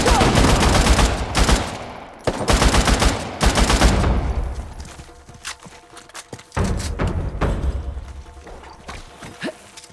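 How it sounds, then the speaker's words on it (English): Rapid bursts of gunfire in the video game Uncharted, loud and close, with heavy thumps followed by scattered single shots and footsteps. "Didn't you hear those gunshots?"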